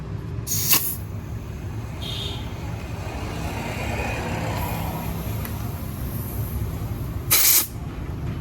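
Air hissing steadily from a pump into a bicycle tyre, a continuous rushing sound with two short sharp bursts of high hiss near the start and end.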